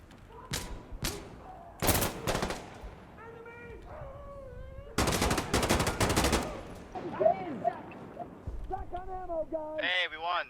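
M16 rifle fire in the video game Insurgency: Sandstorm, loud broadband shots and short bursts scattered through the clip, mixed with voices and bright tonal game sounds.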